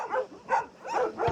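Two small abandoned puppies found on a roadside whimper and yip in short, close bursts, three or four cries over a second, with no talk over them.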